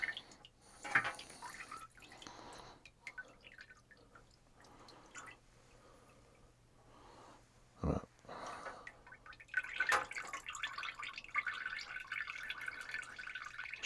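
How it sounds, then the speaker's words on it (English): Evaporust rust-remover liquid drips and trickles as it leaks from a bin, quiet scattered drips with a few sharper splashes and a louder watery stretch toward the end. "Sure is lots of juice leaking out of here."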